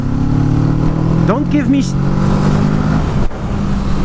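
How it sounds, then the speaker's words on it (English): A 2017 Kawasaki Z650 motorcycle runs close and loud through its Euro 4 exhaust, a steady engine drone that rises and dips briefly in a quick rev. A rider's voice talks over it. "You can make a proper Euro 4 proper sounding exhaust. This one is the proof."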